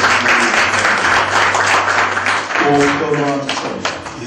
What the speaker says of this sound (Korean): 박수해 주세요. 박수로.